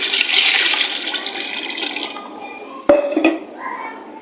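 Water poured from containers into a cooking pot of rice that has been soaking, for an Indian potato tahari pulao; a steady close splash that tapers off, with a few brief knocks near the end.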